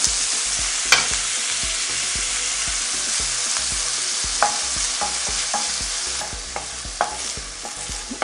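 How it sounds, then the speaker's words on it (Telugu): Onions fry in hot oil in a pan, a steady loud sizzle broken by repeated clanking spoon strokes as they are stirred, for a beans and egg curry; no voices. "ఆనియన్ వేసి ఫ్రై చేసుకుంటున్నాను"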